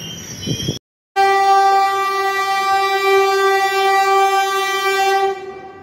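Howrah–Rourkela Vande Bharat Express arriving at a platform: after a short rumble and a brief silence, a loud, sustained, multi-tone train horn blares for about four seconds before cutting off.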